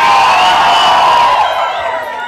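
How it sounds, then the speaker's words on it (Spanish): A crowd at Las Brisas Mexican Restaurant lets out a loud, sustained cheer and whooping shout at close range, fading slightly toward the end. "un grito de la gente que le gustó el resumen de Winners"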